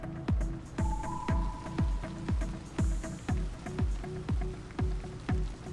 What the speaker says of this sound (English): the sprinklers activate. A large amount of water immediately sprays us